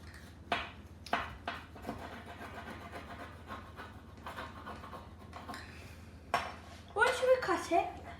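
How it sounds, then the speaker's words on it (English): A homemade yeast-free flatbread pizza is cut into slices with a pizza cutter or knife, giving faint scattered clicks and scrapes against the pan or board. Sharper clatter comes near the end in a quiet room. "you can get your pizza cutter or a knife, and you want to cut the pizza into pizza slices"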